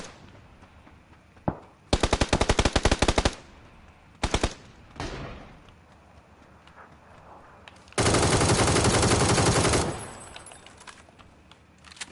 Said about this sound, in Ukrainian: Це хтось стріляв?